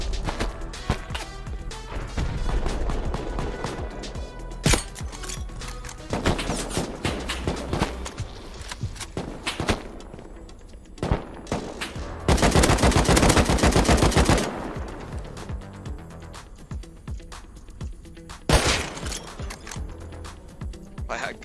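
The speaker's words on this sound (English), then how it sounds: "They're just shooting turrets right now." Gunfire bursts loudly and repeatedly during a raid in the video game Rust, with rapid automatic volleys, including a dense sustained stretch and single sharp shots, over clicking mechanisms and footsteps. Players talk in between.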